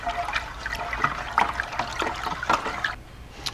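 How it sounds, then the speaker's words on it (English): A sanitized spoon stirring bentonite clay into water inside a home wine-kit fermenter, giving a steady swishing, trickling churn of liquid with soft knocks, close and continuous. "we'll take our handy dandy sanitized spoon and we'll just stir that up again"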